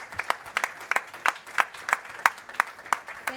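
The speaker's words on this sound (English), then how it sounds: "Let's give them a round of applause." A small audience at a climate policy panel discussion applauds, the claps sparse and distinct, landing in a fairly regular, slightly uneven rhythm from a modest group in a room.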